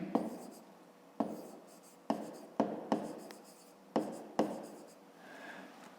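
A pen scratches across paper in a quiet room, short strokes starting with sharp taps in an irregular rhythm, several distinct bursts close and soft.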